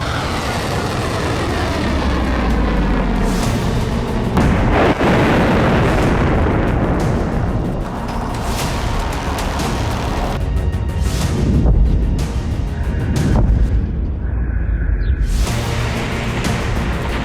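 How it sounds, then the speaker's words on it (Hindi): Heavy, sustained rumbling blasts from an Israeli missile attack on Iran, with repeated booms and bursts rolling through a continuous loud roar, no talk over it. "इजराइल के मिसाइल अटैक से ईरान दहला।"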